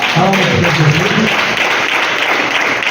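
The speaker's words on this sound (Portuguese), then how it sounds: "Palmas para Jesus." A church congregation applauding at a worship festival, a dense, steady wash of clapping filling the room throughout, with a few voices calling out underneath early on.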